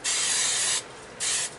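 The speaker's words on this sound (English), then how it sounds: "I'm going to get my piece of cardboard, and I'm just going to spray." An aerosol can sprays onto a piece of cardboard in two bursts, a long close hiss followed by a shorter one after a brief pause.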